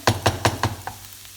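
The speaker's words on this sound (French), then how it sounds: "فوالا البصله ديالنا هي تحمرات" Onions fry until golden in a pan for a panini filling, with four quick rhythmic stirring strokes over the sizzle, then a fainter fifth as the frying settles.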